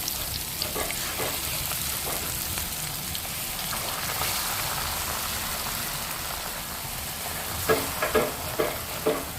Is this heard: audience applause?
no